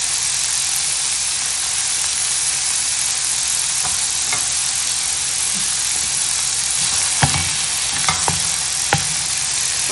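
Onion and grated carrot sautéing in a pan give a steady, close sizzle with a few sharp clicks of a spoon or spatula near the end, and no voices.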